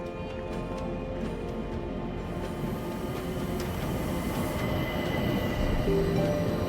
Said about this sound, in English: I can't believe it's a locomotive from the 1930s that is pulling us.